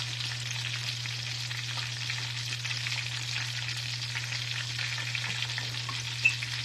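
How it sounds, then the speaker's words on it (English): Soft Philadelphia cheese melting in a pan while a wooden spoon stirs it, a steady even sizzle close by with a faint low hum underneath. "I'm using a wooden spoon so I don't scrape my pan up, it's already starting to melt"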